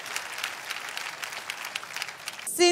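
A church congregation claps in praise, a steady wash of many hands at moderate distance, closing with a brief tonal sound at the end.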